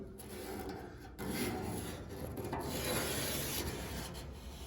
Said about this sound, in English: I'll mark this line